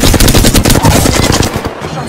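Rapid automatic gunfire from an Apex Legends match, dense continuous bursts of shots loud and close for about two seconds, tapering slightly at the end.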